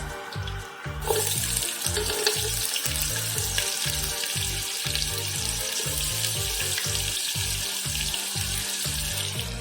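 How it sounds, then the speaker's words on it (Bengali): Chopped onions hitting hot oil with mace, cardamom and cloves for a country-rice Bengali biryani, giving a loud, steady sizzle and crackle that runs unbroken throughout, with rhythmic low thumps beneath and no talking. "আমি এখানে দিয়ে দেবো কুচিয়ে রাখা পেঁয়াজ"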